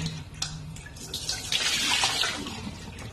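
Tap water runs into a bowl as potatoes are set to soak for a beef nilaga, a steady close splashing stream that swells briefly in the middle, with no talk.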